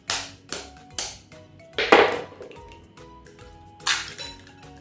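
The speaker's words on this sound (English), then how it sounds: "So now we're going to crack our eggs." Eggs cracked against a hard edge while making breakfast, several sharp clinks and taps in a row, then a louder crack and a final tap, close and clear with no talking.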